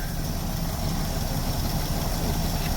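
A 1964 Dodge engine idles steadily close by, a dense, loud, even rumble that holds without change throughout.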